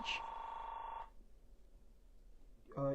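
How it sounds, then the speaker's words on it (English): A telephone rings indoors: one steady electronic ring lasting about a second, then a quiet pause before the next ring begins, fairly faint over low room noise. "What's that noise? That's the phone."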